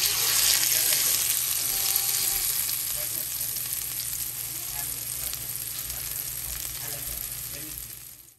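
Tadka of cumin, dried coriander, curry leaves, onion, ginger and garlic frying in a pan for a desi-style kadhi pakora, giving a loud, steady, continuous sizzle that eases slightly over time, with no talking.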